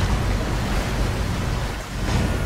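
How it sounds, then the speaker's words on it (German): Water drains from a sealed chamber in the sci-fi game SOMA, a loud, continuous rushing roar like churning surf, unbroken for the whole stretch. "Das Wasser wird abgelassen."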